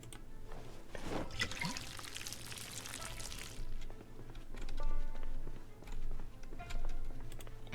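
Water pouring and splashing as a makeshift water bottle is filled in the zombie survival game Project Zomboid, a steady liquid rush for a few seconds followed by quieter game ambience and faint clicks.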